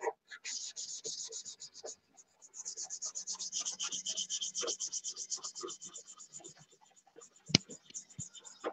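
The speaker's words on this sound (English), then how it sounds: "I got silk span on this fuselage, and I just sanded right through it on one edge" Sandpaper rubbing over silkspan covering on a model airplane fuselage, a close, steady rhythmic rasping of repeated back-and-forth strokes with one brief pause and a sharp knock near the end.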